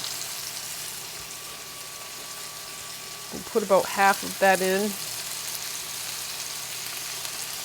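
A steady soft sizzle hisses throughout as food browns in a frying pan, and someone talks briefly in the middle over the quiet crackling of frying.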